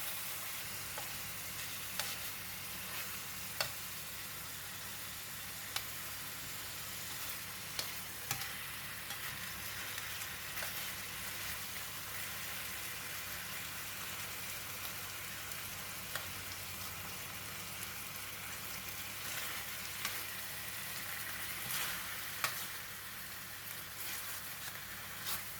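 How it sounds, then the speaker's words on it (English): Pork belly pieces sear in a hot pan, a loud, continuous sizzle with faint clicks of occasional turning, close and unbroken for the whole stretch, no voices. "Continuously turn the pork belly for 4 minutes until the edges are well seared and"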